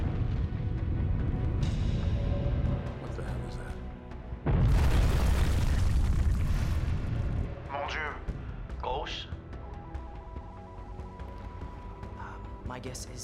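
A warhead detonates in a sci-fi disaster movie with a sudden deep boom that rumbles loudly for a couple of seconds over a tense score, followed by lighter effects and voices.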